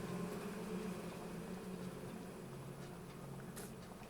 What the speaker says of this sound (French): vous entendez les petites abeilles